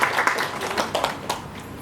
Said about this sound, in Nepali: सबैले एकपटक यो कृतिप्रति उहाँको सम्मानका लागि ताली बजाइदिन अनुरोध गर्छु।